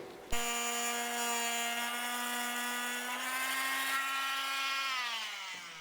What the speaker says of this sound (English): you take a multi-tool like us, but be very careful that you don't damage the cables